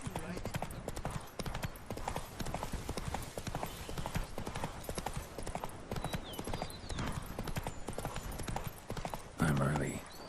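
Horse hooves clip-clopping at a steady gallop in The Witcher 3, a dense, continuous rhythm held close throughout, with a whinny or short vocal burst near the end and speech mixed over the hoofbeats.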